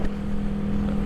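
A 1975 Honda CB360T motorcycle ridden on the road, giving a steady low engine hum with wind rumble, loud and continuous for a brief moment.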